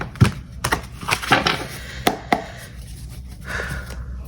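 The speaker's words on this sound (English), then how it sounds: "Let me start shuffling." Tarot cards are shuffled close up in a series of sharp riffling snaps and soft slides, irregularly spaced, with no talking.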